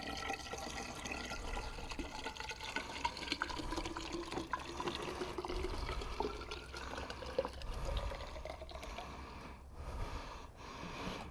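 Washer fluid glugs and splashes continuously into the reservoir of a 1996 Ford Windstar, a close, steady liquid pour with faint bubbling that eases toward the end.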